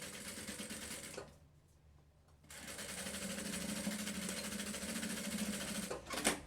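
A sewing machine backstitches a party bag strap, whirring steadily up close, pausing briefly for about a second, then running again at an even pace.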